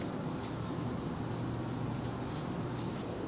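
Sandpaper rubs by hand over a car body repair on rusted, dented panels, a steady, even close-up scratching hiss that holds constant throughout with no pauses or talk.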